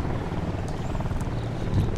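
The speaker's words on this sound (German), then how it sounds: "irgendwo ist ein Helikopter" A helicopter in the video game Ghost Recon Wildlands thrums steadily with a low rotor chop and broad rumbling noise, fairly loud and continuous with no speech over it.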